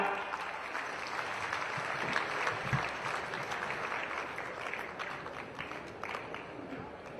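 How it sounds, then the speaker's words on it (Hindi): Audience at a public project inauguration event in Jhansi giving loud sustained applause, crowd clapping steadily with some voices mixed in. "आप सभी की जोरदार तालियां"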